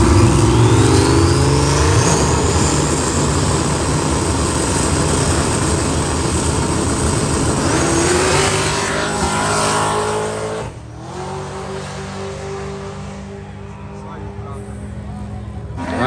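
A Chevrolet Camaro's engine roars and revs hard as it accelerates on a track, loud and close, with a rising whine that then drops away as the car pulls off, amid crowd noise.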